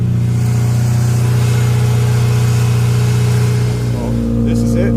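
A car engine with a broken exhaust idles loudly and close with a deep, droning low rumble, shifting in pitch near the end as it revs slightly, with some clatter on top.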